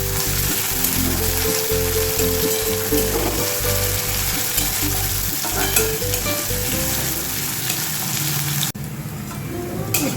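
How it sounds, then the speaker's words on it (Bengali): Bitter gourd (karela) slices frying in oil in a pan, a loud, steady crackling sizzle throughout, with occasional scraping stirs and a brief drop in intensity near the end. "এবার এতে দিয়ে দেবো উচ্ছেগুলো, করলা। ভাজবো, ভালো করে ভেজে নেবো।"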